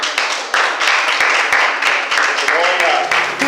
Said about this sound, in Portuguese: As palmas do meu Senhor.